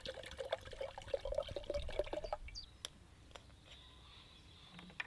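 White vinegar poured into a one-litre glass jar previously used for pickling beetroot, a quiet liquid gurgle and trickle for a couple of seconds, then soft drips and faint handling sounds.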